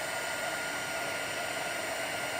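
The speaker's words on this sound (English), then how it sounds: "the important thing is to get your heat tool hot first" Steady broadband hot-air roar from an embossing heat tool warming up for card-making heat embossing, a constant close whoosh with no talk over it.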